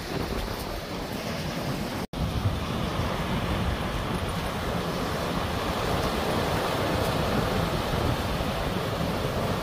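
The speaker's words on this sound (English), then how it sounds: "I hope you can hear me alright because of the sound of the waves." Ocean waves breaking on a Jurassic Coast beach, a continuous broad roar of surf mixed with wind buffeting the microphone, steady and fairly loud with a brief dropout early on.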